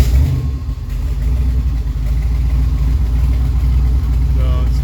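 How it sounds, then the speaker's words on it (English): A truck engine running on a Holley Terminator X fuel injection system idles steadily, a loud, close, continuous low rumble that holds even from start to finish. "it starts right up. Idle's good, right about where I want it."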